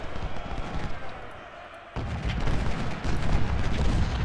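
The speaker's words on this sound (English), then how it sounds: "Our artillery is opening up." Cannon fire from Union 12-pounder artillery in the Civil War game Ultimate General, heard as a dense rumble of distant booms that swells louder partway through and keeps rolling to the end.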